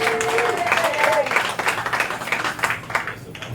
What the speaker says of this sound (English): Come on, give Dar a huge round of applause as she comes up here to do her thing